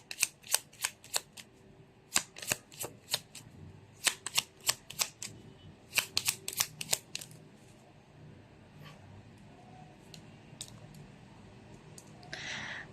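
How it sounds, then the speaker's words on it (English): Tarot cards shuffled in quick bursts of crisp riffling clicks, repeated in several rhythmic rounds, close and fairly quiet, then a softer pause before a few more scattered taps. "You saw me shuffle as always."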